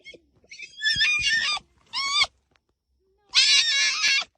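Foxes give shrill, wavering screams and yelps in separate bursts with short silent gaps between them, loud and close, with no talking.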